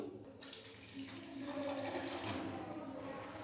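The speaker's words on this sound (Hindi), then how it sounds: "साथ में हम इसके अंदर डाल देंगे 1 गिलास से थोड़ा सा कम पानी" Water pours steadily into a cooking pot of keema, starting after a short pause and continuing as a close, rushing fill.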